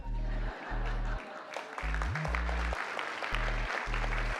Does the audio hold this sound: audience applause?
yes